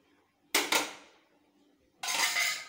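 Two sharp metallic clanks of a lid set on a cooking pot, the first ringing briefly and fading, the second a louder clatter.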